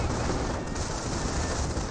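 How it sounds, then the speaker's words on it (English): Paratroopers in the Company of Heroes strategy game fire close rifle shots, blurring into a dense, loud, continuous crackle of gunfire with no clear gaps between rounds. "the paratroopers are firing some close rifle shots on top of Stu"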